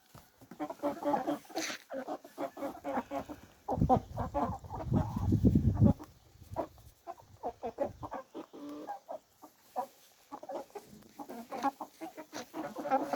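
Broiler chickens clucking steadily close by while grazing on grass, a busy flock murmuring and calling with a burst of louder rustling in the middle.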